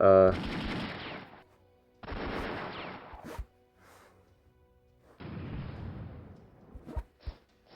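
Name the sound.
artillery fire in the video game European War 4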